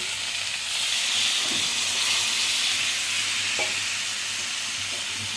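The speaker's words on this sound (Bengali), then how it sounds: "মশলাটা কষা হয়ে গেছে, এবার আমি জল দিয়ে দিচ্ছি" Water poured into hot fried spice paste in a pan while cooking pointed gourd with prawns, giving a loud, steady sizzle and steamy hiss that holds without a break, with no talk.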